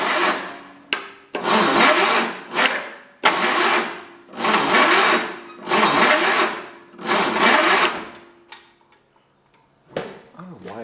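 A 1972 John Deere 140 garden tractor engine cranks over hard and slow in six long, laboured bursts with short pauses between, loud and close, followed by a brief quiet spell and one more short attempt.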